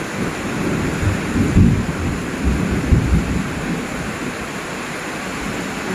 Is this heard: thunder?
yes